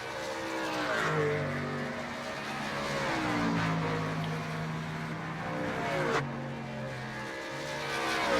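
A rough-sounding race truck engine in an iRacing truck series race in Canada drones and revs continuously, its pitch rising and falling as it accelerates and eases off.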